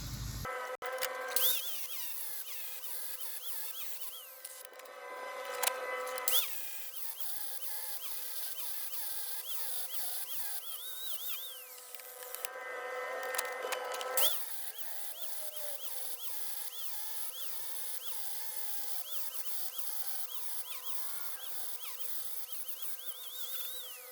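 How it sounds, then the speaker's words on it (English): Metal grinding on small attachment plates for a wheeled chair build, a steady harsh whine running nearly the whole time with two short breaks, close and loud, with faint outdoor background. "those little plates that are going to attach that together, I need to do some grinding on those"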